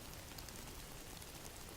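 Steady, soft rainfall, a faint continuous hiss of drops pattering on a surface without pause or change in intensity for the whole stretch.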